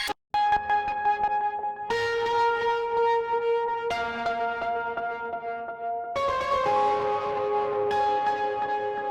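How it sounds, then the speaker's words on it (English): A distorted synth piano sound in Omnisphere 3 plays sustained chords that change every couple of seconds, with a gritty, bell-like ring and harsh overtones. No voices. "let's add some distortion."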